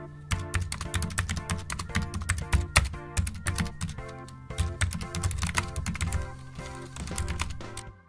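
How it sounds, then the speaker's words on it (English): Fast typing on a computer keyboard while a long letter is entered in a Minecraft roleplay, dense bursts of crisp key clicks in quick runs with brief pauses, over a faint tonal background. "let me type it in real fast"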